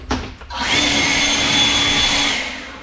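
Air blower cleaning the pull-out radiator screen of a Kubota BX compact tractor, a brief start-up click then a steady whooshing whine that holds for about two seconds before fading.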